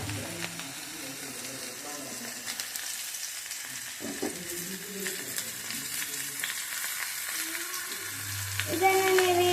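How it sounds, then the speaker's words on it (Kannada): Mushrooms frying in oil in a pan: a steady, bright sizzle that continues throughout, with occasional stirring scrapes, and louder crackling near the end. "ನಾನೆಲ್ಲ ಮಶ್ರೂಮನ್ನು ಈ ರೀತಿ ಹಾಕ್ತಾ ಇದ್ದೇನೆ"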